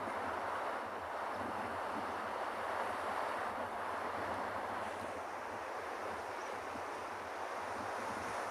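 Ocean surf washes steadily onto a penguin beach, a continuous broad roar of breaking waves mixed with wind buffeting the microphone, with no voices over it.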